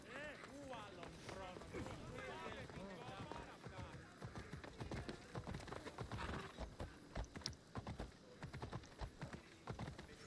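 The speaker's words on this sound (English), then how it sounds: "Figure out to get onto that horse at speed." A horse gallops in the video game Assassin's Creed Odyssey, its rapid rhythmic hoofbeats clip-clopping steadily at moderate volume. Someone talks over the hooves through much of the stretch.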